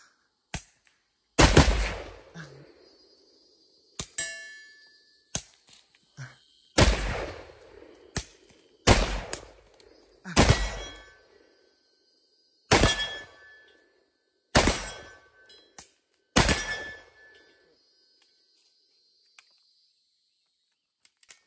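Big .308 rifle shots ring out one after another at an outdoor range, each a sharp loud crack followed by a metallic clang from bullets hitting steel targets, about eight shots spaced irregularly with quiet gaps between.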